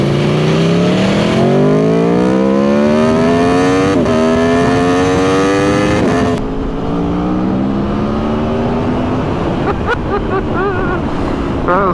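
A 2022 Aprilia Tuono V4 motorcycle accelerates hard through the gears, with rising engine pitch broken by quick-shifter changes and heavy wind noise throughout.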